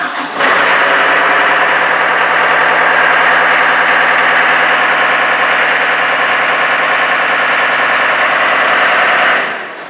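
A John Deere 319E skid steer's common rail diesel engine starts instantly and settles into a steady, loud, close idle that runs unbroken for about nine seconds before cutting off.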